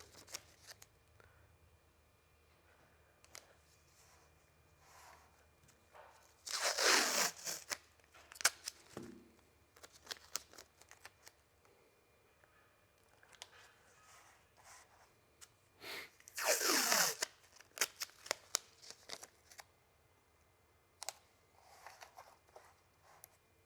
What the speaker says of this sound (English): we're going to go ahead and re-masking tape the previous areas